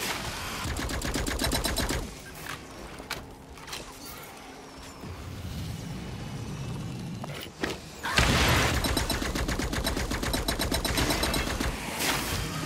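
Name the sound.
grenades and gunfire in the video game Firefall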